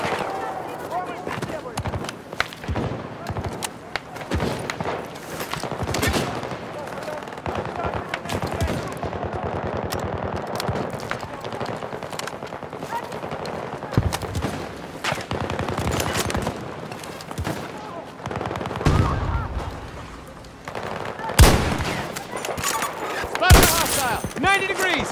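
Repeated machine-gun bursts and single gunshots crack throughout a Battlefield 2042 team deathmatch, some close and sharp, others distant, with a player talking over the firing.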